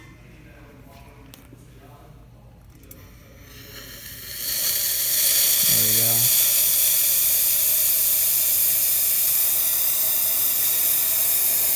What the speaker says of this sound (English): we'll test its features, starting with steam